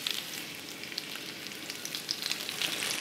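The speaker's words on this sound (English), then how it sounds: "The pork tenderloin will take about 4 to 5 minutes to cook on each side" Breaded pork tenderloin fries in a pan with a steady, dense sizzle full of crackling pops, heard up close and continuous, with no voices.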